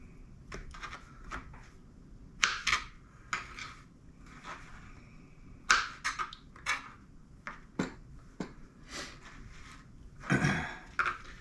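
A knife slicing through a mango close to the seed, giving a series of soft scraping cuts and light clicks against a board, fairly close and quiet, with no talking.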